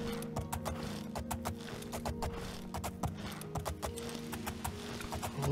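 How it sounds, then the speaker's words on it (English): Hooves clip-clop in a quick, steady rhythm over a low humming background, a horse trotting with crisp repeated clicks in the video game Oblivion. "I'll just take a little practice controlling this horse."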